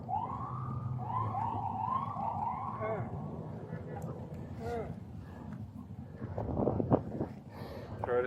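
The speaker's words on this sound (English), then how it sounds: "The ambulance is pulling in." An ambulance siren wails in rising and falling sweeps nearby as it pulls in, then gives way to traffic rumble and people talking.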